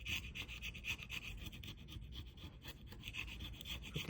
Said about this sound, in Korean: 이렇게 다 긁고